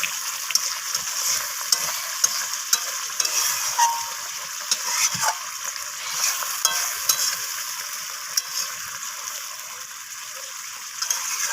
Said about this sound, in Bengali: ধনিয়া পাতাটা দিয়ে আবারও একটু নাড়াচাড়া করে নিচ্ছি হালকা হাতে